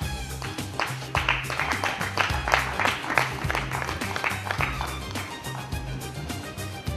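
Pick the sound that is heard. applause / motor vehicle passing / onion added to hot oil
applause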